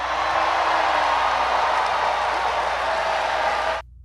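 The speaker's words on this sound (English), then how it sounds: "Okay, and there's everybody cheering" Audience cheering at a speech heard on a played recording, a dense continuous roar of applause and crowd noise that cuts off abruptly near the end.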